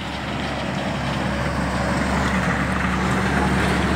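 An old Ford truck engine runs steadily at idle, a continuous low rumble with a broadband mechanical hum. No voices are heard.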